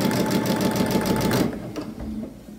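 A sewing machine stitches free-motion quilting on a holiday quilt, a loud steady mechanical whir for about a second and a half before stopping abruptly, leaving faint room noise.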